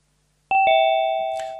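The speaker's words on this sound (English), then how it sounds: "There's my ding dong, so it's joined." A laptop gives a clear two-note ding-dong chime on joining an online meeting, loud and close, ringing out alone after silence.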